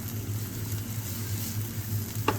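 Onions stir-fry in a pan with a steady, moderately loud sizzle and a continuous low hum, ending in a single brief clink of a utensil.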